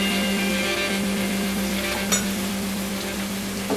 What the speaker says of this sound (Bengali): আর দেব কুচানো পেঁয়াজ টমেটো সরি কুচানো টমেটো, একটু হলুদ দিয়ে দেব